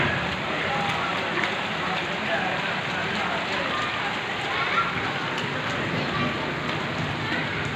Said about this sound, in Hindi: देख सकते हैं आप कितनी तेज़ बारिश हो रही है।